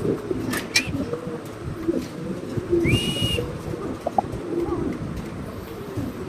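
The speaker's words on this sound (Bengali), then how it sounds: "এক জোড়া পকা কবুতর দেখেন কিভাবে ডাকতেছে" A pair of blue barless velvet pigeons coo in repeated soft, throaty calls with a few whistle-like notes over a busy market background.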